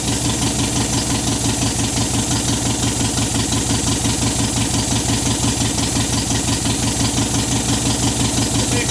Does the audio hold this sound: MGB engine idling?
yes